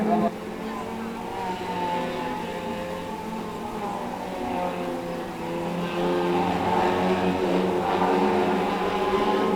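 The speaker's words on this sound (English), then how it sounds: "So Liam Georgeson about to also receive a technical infringement flag for blown exhaust." Pro stock race cars lapping at Cowdenbeath Racewall, one with a blown exhaust, a continuous loud engine drone rising and falling in pitch as they circle, under a commentator's voice.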